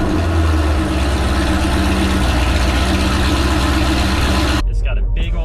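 A Corvette's big 427 LS7 V8 idles with a deep, steady low rumble and constant exhaust burble, loud and close, running evenly for about five seconds before dropping off abruptly near the end.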